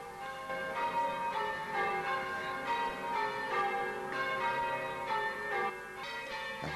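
Ireland's oldest church bells, dating from 1423, ring continuously in a Dublin church tower, overlapping peals with rich ringing tones, steady and moderately loud, heard from some distance.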